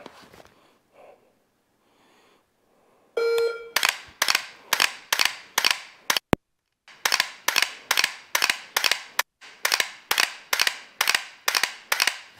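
Dry-fire practice with a BlackbeardX training system: a string of sharp, close clicks in a fairly regular rhythm, about a dozen shots, each followed by a brief mechanical rattle, with no talking.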